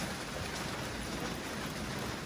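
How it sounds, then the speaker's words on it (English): Steady rain falls on a rainy day outside a blacksmith's forge, a soft, even hiss of drops on surfaces that runs continuously without pause, fairly faint and distant, with no voices. "As you can tell, it's a rainy day"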